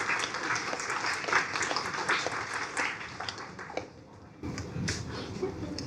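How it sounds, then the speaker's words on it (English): Audience applause welcoming a speaker to the stage at a data and analytics talk, a steady wash of many hands clapping at moderate distance, thinning briefly near the end before swelling again. "please give us a round of applause to welcome Karolina on the stage"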